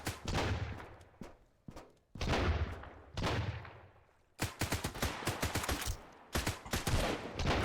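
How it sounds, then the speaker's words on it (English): Gunfire in the survival game Sunkenland: bursts of loud automatic fire and single cracking shots, clustered in rapid volleys with short pauses between, the last stretch a dense run of quick shots. "someone's shooting straight up at me."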